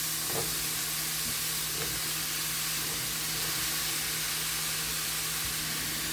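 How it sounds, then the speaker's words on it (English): Zucchini added to a hot frying pan with smoked paprika releases a steady, close hiss of sizzling oil that holds constant throughout, with a low hum underneath and a few faint stirring clicks. "Now I'm going to add the zucchini."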